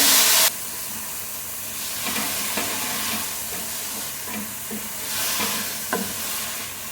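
Washed broccoli dropped into a hot pan with softened onions and sautéed. A sharp burst of hissing opens, then settles into quieter sizzling and occasional stirring scrapes, with no voices.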